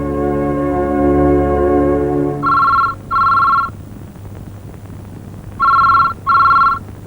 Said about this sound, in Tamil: போன் பெல் அடிக்குது